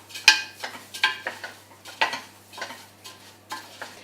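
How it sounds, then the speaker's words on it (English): Lentils are stirred in a cooking pot for a Puglian Italian dish: a spoon scrapes and knocks against the pot in about eight quiet, uneven strokes, with no talk. "Now that I've added the lentils, give them a good stir."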